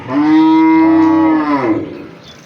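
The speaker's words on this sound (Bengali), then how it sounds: "এটা প্রথম নম্বরের গাভীর বাচ্চা" A large cow calf lets out a single loud, close moo that lasts well over a second and then trails off.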